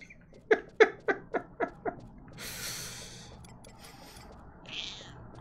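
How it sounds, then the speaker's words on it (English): A pet cat meows in a quick run of six short, rising calls close to the microphone, followed by a soft breathy noise and a faint sound of game audio in the background. "I'm chatting with my kitty cat right now."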